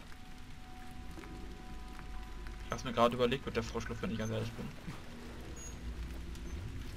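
Rain falling in a Half-Life Source mod game, a soft, steady hiss low in the background while someone talks over it for most of the stretch.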